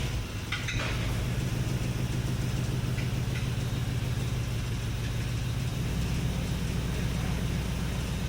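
An LS V8 swapped into a Willys Wagon idles while warming up, a steady, even low drone and rumble that holds throughout. The pitch settles lower partway through as the idle drops, with a brief faint rattle near the start.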